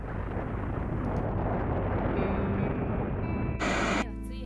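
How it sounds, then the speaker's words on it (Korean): A huge explosion destroys the Nevada branch in the Evangelion anime, heard as a loud, sustained roaring blast that fills the scene before cutting off abruptly into a brief burst of bright noise. "미지의 물건인 S2 기관을 에바와 전복하려다가 4호기가 폭발하게 됐고"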